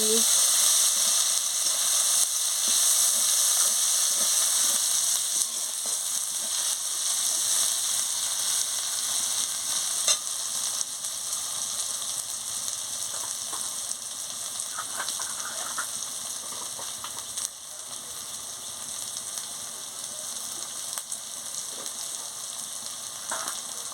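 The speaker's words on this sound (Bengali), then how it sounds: "পরিমাণ মতন হলুদের গুঁড়ো দিয়ে দিচ্ছি দিয়ে ভালো করে ভেজে নিচ্ছি" Ground turmeric and spices fry in a hot pan for cabbage fritter curry, a steady loud sizzle with occasional stirring scrapes running unbroken throughout, no voices present.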